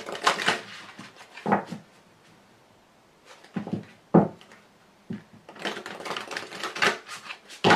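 Large oracle cards being shuffled by hand, giving bursts of rapid papery riffling and slapping separated by quieter pauses, close and fairly loud.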